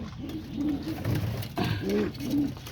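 Homing pigeons coo close by in soft, repeated throaty rolls, several low warbling calls following one another over a faint background.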